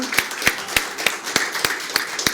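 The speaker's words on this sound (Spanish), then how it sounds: "Le damos un fuerte aplauso al Señor." Rhythmic clapping at a church service, about eight sharp claps at a steady pulse over a soft wash of crowd noise, fairly close and with no one speaking over it.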